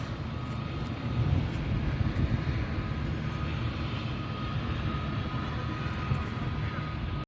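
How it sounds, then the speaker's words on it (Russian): A steady, loud engine roar from a private helicopter flying overhead near Priozersk, Russia, droning continuously, with faint rustling noise on top. "И какой-то, наверное, частный вертолет"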